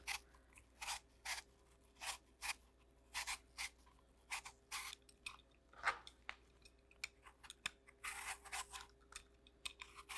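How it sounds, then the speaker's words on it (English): A knife chops a Granny Smith apple into cubes on a cutting board, giving steady, rhythmic crisp cuts close to the mic with no talking. "We're just gonna cut our apple into cubes and then simmer it."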